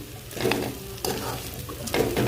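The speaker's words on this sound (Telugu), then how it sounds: "ఇదిగోండి ఇలా నీట్గా మొత్తం కారం కలిసేలాగా తిప్పుకొని" Spoon stirring a coconut and chili powder mix in a hot pan, three scraping strokes over a soft sizzle, close and clear with no talking.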